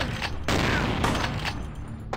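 Gunfire from the vampire role-playing game Vampire: The Masquerade - Bloodlines: a loud, dense fusillade of shots with sharp bursts and booming reports, firing almost continuously across the short stretch.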